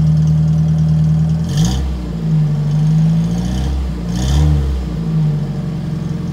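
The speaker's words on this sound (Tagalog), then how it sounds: "I-rev mo nga. Tingnan natin kung umusok." An owner-type jeep with a Toyota 4K engine idles loudly up close, then revs twice in quick swells before settling back to a high, steady idle.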